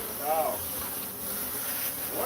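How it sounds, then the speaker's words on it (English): Bees swarm around a hive with exposed comb, a dense continuous buzz close by, with faint voices underneath. "look at all those bees"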